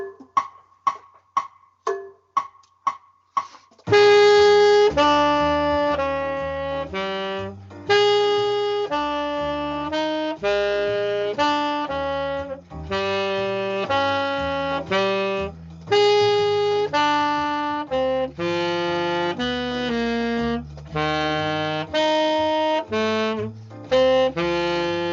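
After about four seconds of sharp count-in clicks, a blues thirds-and-sevenths exercise plays in reversed order, seventh then third, as sustained, rich tones that change in steady succession.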